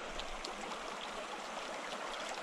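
A mountain trout creek flows in a steady, close rushing babble, an even wash of moving water with no voices.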